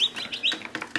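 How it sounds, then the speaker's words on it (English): A brood of about twenty-one baby chicks peeps constantly, with rapid, high, overlapping chirps close by. "We ended up with 21 chicks so far."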